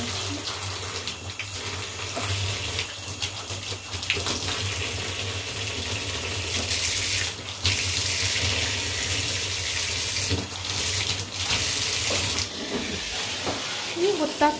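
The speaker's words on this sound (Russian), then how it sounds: "Включаем водичку" Warm tap water runs steadily from a faucet for a shower for houseplants indoors, a continuous close rushing hiss with small splashy shifts, uninterrupted throughout.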